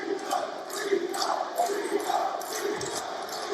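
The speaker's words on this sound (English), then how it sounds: "the shouts from the Italian crowd" Italian crowd at a boxing match in a World Series of Boxing bout shouting and cheering, a steady dense roar of voices with intermittent louder yells rising throughout, heard at a distance without close speech.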